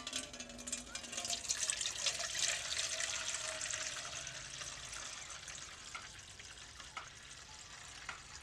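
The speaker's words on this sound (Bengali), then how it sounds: "উপরে জলটা ফেলে দিব" Dirty water is poured off settled raw potato starch in a home kitchen, a continuous close splashing pour that is strongest early and then thins to a lighter trickle, with no speech.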